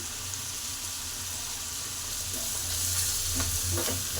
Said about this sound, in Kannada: ಇನ್ನು ಸ್ವಲ್ಪ 1-2 ನಿಮಿಷ ಬೇಯಿಸ್ಕೊಳ್ಳೋಣ, ಹಂಗೆ ಫ್ರೈ ಮಾಡ್ಕೊಳ್ಳೋಣ